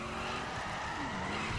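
A drift car skids in a multiplayer driving game, with a steady, loud tire squeal and a droning engine running without a break, changing slightly in pitch, and no talking.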